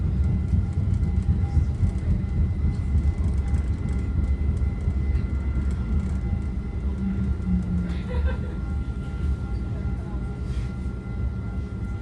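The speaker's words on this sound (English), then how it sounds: "Here we are pulling into Hillsdale Station to make our scheduled stop." A Caltrain commuter train slows into Hillsdale Station, heard from inside as a steady, loud rumble of wheels and car noise with faint squeals, while a voice talks quietly over it.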